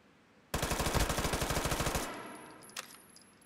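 Automatic rifle in the VR shooter H3VR firing one rapid burst of about twenty evenly spaced loud shots for a second and a half, then a ringing tail with a faint clink.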